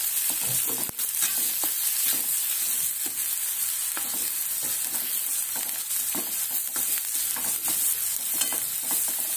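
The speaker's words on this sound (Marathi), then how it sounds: "यात आपल्याला तेलात चांगल्या प्रकारे परतून घ्यायचं आहे" Spices, turmeric and salt sautéing in hot oil for egg bhurji, a steady close sizzle with scraping stir strokes throughout, no talking.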